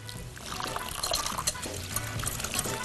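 Close-up warm water being poured onto yeast in a container, a continuous splashing trickle with small bubbling variations.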